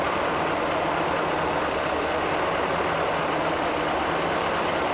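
A Mercedes 560SL with KE-Jetronic fuel injection idles steadily, a constant low engine hum with a faint recurring tone under dense broadband noise and no talking.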